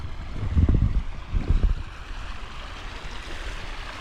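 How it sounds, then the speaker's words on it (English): Overflow water from a pond pours out of a drainage pipe during flash flooding, a continuous rushing, splashing wash with two louder surges early on, heard from nearby. "That's the overflow from the pond right now."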